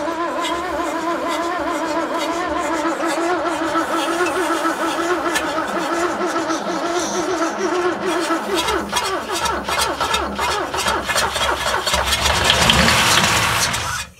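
A long-dormant Mercedes W111 convertible engine, fed easy start spray after sitting about 40 years, cranks and catches, then runs roughly and steadily close by, swelling louder near the end with a brief rev.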